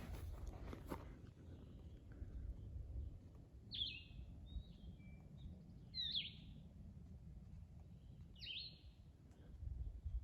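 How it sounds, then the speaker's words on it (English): Three short bird chirps ring out a couple of seconds apart over a steady low outdoor rumble, fairly distant and clear. "Plus I get to hear the birds singing."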